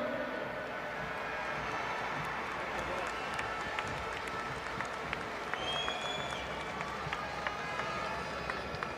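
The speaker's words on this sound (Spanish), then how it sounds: "Un fort aplaudiment al campió." Stadium crowd applauding a football champion, a broad, continuous roar of clapping and cheering with sharp claps standing out, sustained at steady level throughout.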